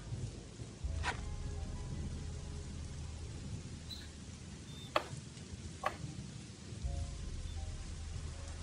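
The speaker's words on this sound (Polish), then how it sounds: "Jej, deszcz chyba pada." Steady rain in the video game Gothic 2 patters continuously in the background, with a few sharper drip-like ticks standing out now and then.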